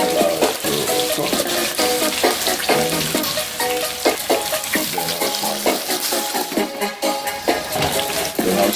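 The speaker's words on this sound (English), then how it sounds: "I'm going to put my beef broth into it and allow it to cook" Beef broth poured into curry beef cooking in a pot for Jamaican-style curry beef, giving steady sizzling and bubbling with intermittent stirring clatter and utensil knocks throughout.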